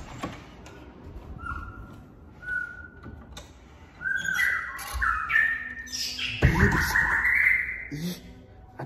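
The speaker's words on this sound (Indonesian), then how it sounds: "ada burung malam-malam teriak-teriak." A bird squawks and whistles at night in loud, rising bursts, repeating several times over a quiet background with faint noises.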